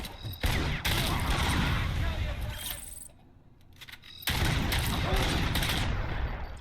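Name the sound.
gunshot from the video game RoboCop: Rogue City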